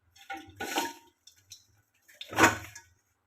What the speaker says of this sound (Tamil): 1/4 டம்ளர் அளவுக்கு தண்ணி ஊற்றி இந்த மண்டவெல்லத்தை அப்படியே போட்டுருவோம்.